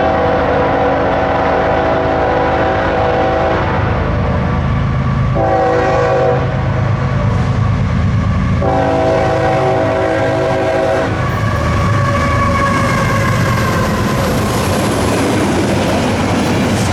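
A freight train on a main line hauling an EMD SW1500 switcher locomotive in tow rumbles past loudly and steadily, sounding several long horn blasts, with rail clatter continuing beneath.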